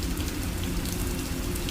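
Heavy rain falls in a dense, continuous hiss, a loud, even downpour with no breaks.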